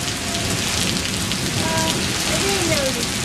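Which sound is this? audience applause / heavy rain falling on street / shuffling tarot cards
heavy rain falling on street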